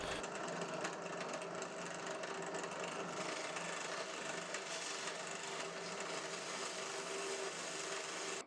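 Sanding drum spinning on a drill against a piece of hard oak, giving a steady, continuous abrasive whir that holds level throughout with no pauses or voices.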